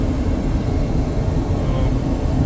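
Steady broadband cabin roar aboard a Boeing 737 MAX in flight, a continuous low rumble with no breaks, loud and constant throughout.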